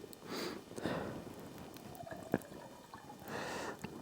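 Water sloshes and gurgles inside a small kettle being rinsed at a cold winter campsite, in uneven splashing bursts with a few sharp drips, close by against faint outdoor background.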